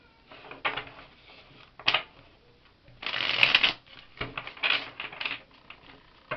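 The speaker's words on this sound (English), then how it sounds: "the shuffling just takes some time" Playing cards are shuffled by hand in several quick riffling bursts with short pauses between them, close and fairly soft, with no talking.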